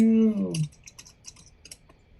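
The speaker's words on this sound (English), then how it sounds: "How loud is my typing?" Typing on a computer keyboard, with a quick run of light key clicks close by following a brief tone at the start.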